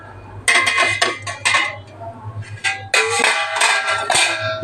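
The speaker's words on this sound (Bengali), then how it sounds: "এই দেখো, দেখো এবারে ঢাকনা আমি সরিয়ে দেবো, দেখি কেমন হয়েছে।" A metal lid comes off a cooking pan of fried idli, with several close, bright clanks and scraping rattles of metal cookware in bursts, fairly loud, separated by short quiet gaps.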